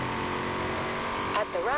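A car drives in the video game Forza Horizon 4, a steady engine hum running close underneath someone talking throughout.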